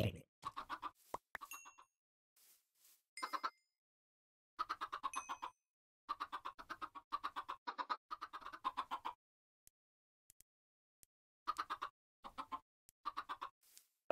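Chicken clucking in a blocky survival crafting game, short bursts of clucks repeating irregularly across the clip, fairly close and clear with quiet gaps between calls.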